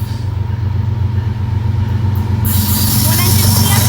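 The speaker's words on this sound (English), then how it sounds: "Look, here comes the freight train." An eastbound CSX lumber freight train with one lead engine and a rear DPU rolls past nearby, a loud steady rumble of wheels and cars with a brighter rush of noise building partway through, while a person talks over it.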